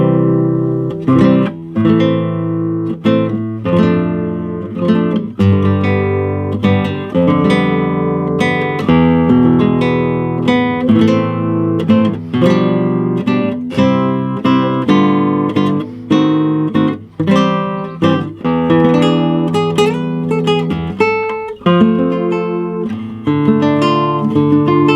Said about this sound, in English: The classical guitar is played with the fingers, no pick, and it sounds like this.